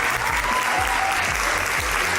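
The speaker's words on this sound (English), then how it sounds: "Please, a huge round of applause for Nicholas Hoult" Hearty audience applause greeting actor Nicholas Hoult, a full, continuous roar of many hands clapping at close range without pause.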